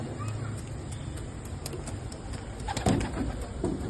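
Pigeons coo nearby, soft repeated throaty calls with wing flutters and rustling, busier toward the end, over a steady background.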